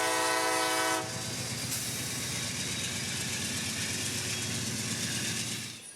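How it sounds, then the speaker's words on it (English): A CSX local freight, L767, arrives hauling a unit train of jumbo covered hoppers on the Bone Valley line. It opens with a loud, sustained horn blast, then a steady engine rumble and rolling wheel noise continue close by, with no talking. "as L767 arrives from Ridgewood with one of those unit trains from up north in tow."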